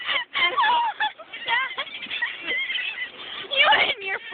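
Seagulls call close by in a noisy, overlapping flurry of squawks and cries, continuous throughout with a louder burst near the end; people may be speaking among the calls.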